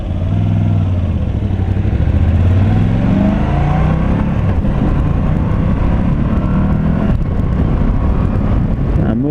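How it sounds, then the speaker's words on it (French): Moto Guzzi V85TT motorcycle engine accelerating hard through the gears on the road, loud close exhaust with rising pitch sweeps and wind noise, no talking. "Un moteur super nerveux, très volontaire."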